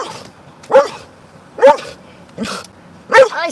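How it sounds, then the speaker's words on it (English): A dog barks four times at a steady interval, loud and close, each bark sharp and throaty with quiet room noise between them. "It's okay. It's just a dog."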